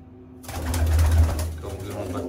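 Pigeons cooing and fluttering close by while pairs are separated and released, a low murmuring coo over shuffling and rustling noise.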